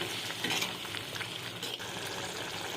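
Dried anchovy curry simmering and frying in a pan, giving a steady close sizzle with faint bubbling and occasional stirring scrapes throughout.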